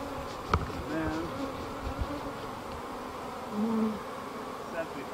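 Honeybees buzz steadily around a hive during a colony split with a queen named Queen Mary, a dense close drone with individual bees zipping past louder now and then, and a soft knock near the start.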